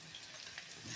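Chopped onion sizzling in a hot frying pan, a soft steady crackle with faint stirring, low and continuous with no voices.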